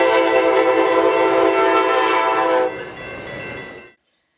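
An Amtrak passenger train passes close by, its horn blaring loudly and steadily for over two seconds before cutting off, followed by the rumble of rail cars fading out quickly.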